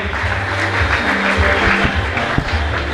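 Applause rings out for a female camera holder at a church graduation and award ceremony for Faraja Secondary School students, with steady crowd clapping held at an even level across the whole stretch and no voices over it.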